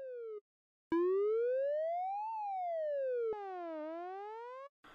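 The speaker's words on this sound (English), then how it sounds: "see how the siren sound effect sounds with the rest of the clip" Synthesized siren effect built in Reason, a pure electronic tone sweeping slowly up and down in long rising and falling glides, clean and steady with a brief gap near the start.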